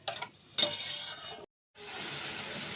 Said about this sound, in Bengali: মশলা কষিয়ে নেব মশলায় তেল ছেড়ে দেওয়ার আর মুহূর্ত